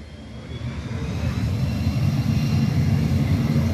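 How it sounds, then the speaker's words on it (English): A Navy A-4 Skyhawk jet taxis out toward the runway at Ellington Field in Houston, Texas, its steady low engine rumble growing a little louder and holding on, heard at some distance with no talk. "Taxiing out to the runway."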